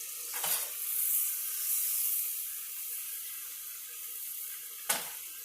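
Vegetables are tossed into a pan of spicy sausage turned down to low, giving a soft, steady sizzle with two sharper bursts of stirring and scraping near the start and end, and no voices.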